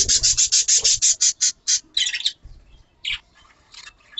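Budgerigars chirping around clay nest pots in a breeding aviary, a rapid run of sharp repeated chirps followed by scattered squawks and twitters, close and fairly loud.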